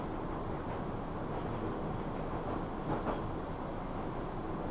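A train running in the railway video game Metrogether, a steady mid-level rumble with faint rhythmic clatter, continuous and unbroken, with no one talking.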